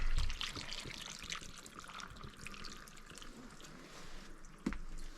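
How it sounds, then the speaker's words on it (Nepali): Water is poured into a cooking pot while a pumpkin dish is prepared, a steady splashing trickle with a few drips, fairly close and moderately quiet, with no talking. "यसलाई यहाँ पानी हाल्नुपर्छ अलिकति"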